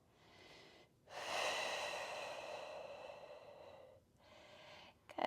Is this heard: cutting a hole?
no